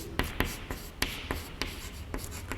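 Marker or chalk strokes on a board during a physics lesson on wave optics, a quick series of sharp, close scratching taps in an irregular rhythm, with no talk.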